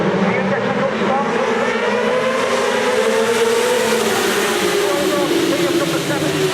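Racing motorcycles roar away from the start line at Oulton Park's Wirral Hundred road races, a loud, continuous engine wail with rising and sweeping pitch under a commentator's voice.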